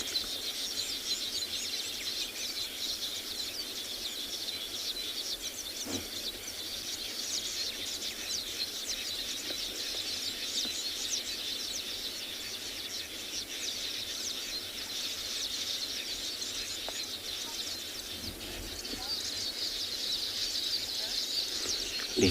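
Birds calling at sunset on a safari at Tswalu, a continuous chorus of chirps and insect-like trills carrying steadily at moderate distance.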